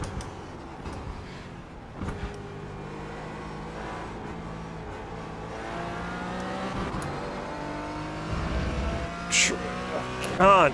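Aston Martin race car engine in the iRacing sim, a steady droning roar with rising and falling revs through gear changes as it pulls away on a back straight, with other cars nearby and a voice talking over it.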